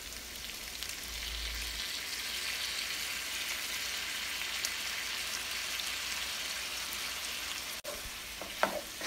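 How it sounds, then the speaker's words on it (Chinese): Beef shank and tendon stir-fried with dark soy sauce in a wok, giving a steady, loud hissing sizzle throughout with a few scraping stirs near the end. "继续翻炒"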